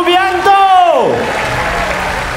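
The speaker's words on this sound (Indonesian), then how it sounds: "Beri tepuk tangan yang mulia untuk Bapak Prabowo Subianto" Audience applause for Prabowo Subianto at a PSI support declaration event: a loud amplified voice trails off as a broad wash of clapping swells and continues steadily.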